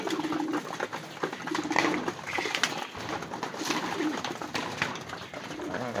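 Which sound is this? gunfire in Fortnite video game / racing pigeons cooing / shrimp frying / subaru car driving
racing pigeons cooing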